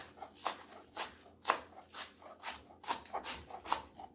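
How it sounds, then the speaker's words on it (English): A knife chops green onions on a cutting board in a steady run of crisp, close strokes, roughly two per second, with no talking. "And let's just cut some green onions."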